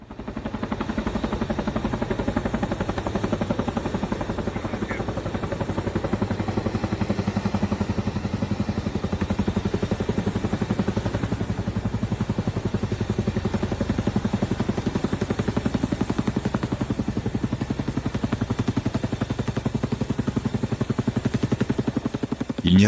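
A helicopter delivering water thrums continuously with a steady rotor whir and mid-pitched engine drone, holding a constant level throughout.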